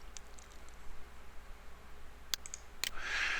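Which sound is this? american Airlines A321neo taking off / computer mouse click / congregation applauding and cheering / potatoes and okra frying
computer mouse click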